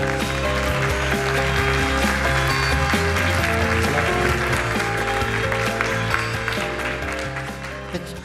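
Loud applause at a science conference as George Ellis is welcomed on stage: a thick, sustained roar of clapping from a large audience, mixed with loud stage music, steady for several seconds before easing slightly.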